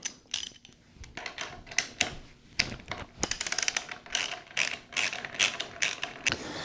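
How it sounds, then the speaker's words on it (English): A ratchet with a Torx 45 socket clicks in quick rapid bursts, removing a bar-end bolt from a motorcycle hand guard on a BMW R1200GSA, close and crisp with brief pauses between runs. "a Torx 45 socket to remove this end bar bolt here"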